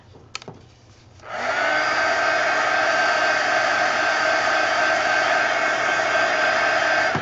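A hair dryer switches on after a few small clicks and handling sounds and then blows steadily and loudly to dry a painted art journal page, a constant whirring hiss with no talk.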